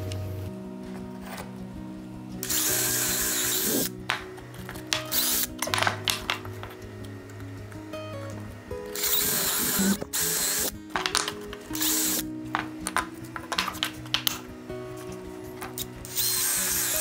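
A power drill bores holes in a scrap wood board, with repeated whirring bursts and rattling, ratchety grinding that start and stop irregularly and include short pauses between runs.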